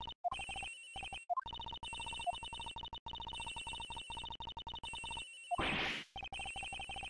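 A cell phone rings in the Ace Attorney Investigations video game, a steady electronic ringtone repeating in short bursts with brief gaps, loud and close, ending with a short swoosh.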